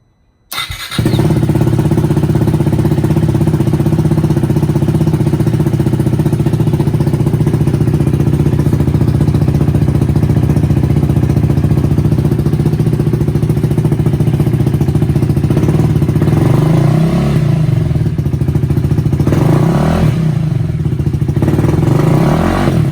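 A Husqvarna Vitpilen 401 motorcycle fitted with a PowerTronic ECU and Coober airbox lid cranks and fires up after a brief silence, then settles into a loud, steady close-up idle with a couple of small blips near the end.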